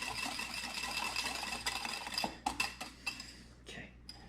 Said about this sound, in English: I'm still whisking it